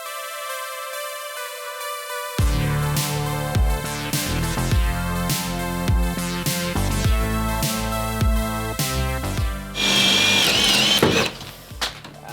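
Ryobi power drill working on a custom DIY address sign, with repeated short bursts and revs of the motor over several seconds, then a harsher, louder grinding stretch near the end, close and with no talking.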